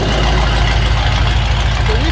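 A Ford V8 in a Divco milk truck rumbles with electric exhaust cutouts open, a loud, deep and steady exhaust burble close by, with someone speaking over it.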